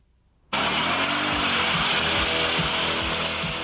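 A 1999 Mercedes-Benz E55 AMG accelerates hard, its engine bursting in abruptly after a near-silent moment and then holding a loud, close, rising roar with rhythmic pulses beneath.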